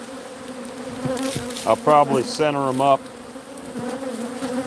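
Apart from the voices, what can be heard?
agitated bees in a hive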